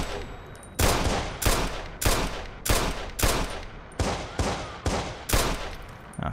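Gunfire in the video game Watch Dogs cracks out in a loud, steady string of about nine evenly spaced shots, each with a short echoing tail, with no talk.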